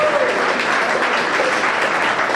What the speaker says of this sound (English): just a huge round of applause for the Sports Boosters putting this entire show on tonight